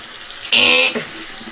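A sink tap runs briefly as hands are rinsed, a sharp close rush of water that starts suddenly and stops about half a second later, with faint room sound on either side.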